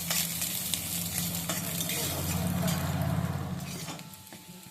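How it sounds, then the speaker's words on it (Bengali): Chopped green chillies frying lightly in oil in a pan: a dense, steady sizzle with a constant stirring rustle, close and fairly loud, a few faint clinks scattered through and a knock at the end, no talk. "এগুলোকে হালকা করে ভেজে নিয়েছি"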